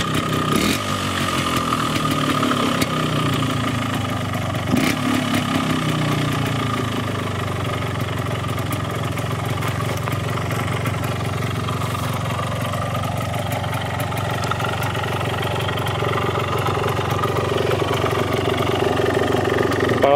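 A warm Yamaha TY trial motorcycle engine runs steadily while being ridden, a close, continuous buzzing drone with small throttle swells and a few sharp knocks early on, with no speech throughout.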